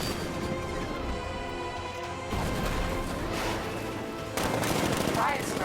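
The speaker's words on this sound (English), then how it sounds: "60mm cannon operational." Tank cannon fire and rapid gunfire in a Batman video game, with dense bursts of shots, blasts and a sudden loud crash partway through, continuous and close.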